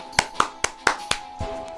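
Applause effect from a video game: five crisp, evenly spaced claps ring out close and clear over a faint steady tone, followed by a softer thump.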